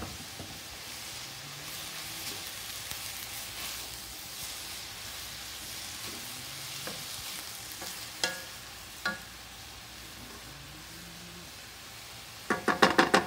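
Vegetables stir-frying in a hot pan, a steady soft sizzle with occasional sharp clinks of a utensil against the pan and a flurry of scraping near the end.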